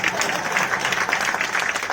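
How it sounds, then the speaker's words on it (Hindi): Audience applause at a Hindi-language press conference, a dense steady patter of many hands clapping at once, fairly loud and continuous for the whole stretch with a faint murmur of voices mixed in. "ताली बजाइए, जोर से बताओ।"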